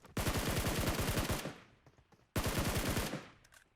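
DP-28 machine gun in the mobile game PUBG Mobile fires two loud, rapid bursts, each lasting over a second, separated by a short pause.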